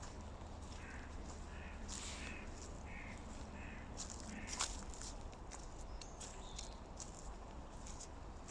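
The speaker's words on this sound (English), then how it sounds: "Sounds like the crows have come to play." Crows caw in a series of harsh, repeated calls at a moderate distance across a nature reserve near Talke Pits, North Staffordshire, over a steady outdoor background with occasional footsteps.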